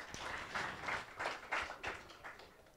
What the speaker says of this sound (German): Nochmal Jubel bitte.